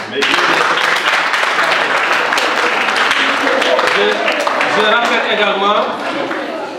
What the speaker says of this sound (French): j'aimerais bien que vous lui donnez, comme le disait l'autre, un tonnerre d'applaudissements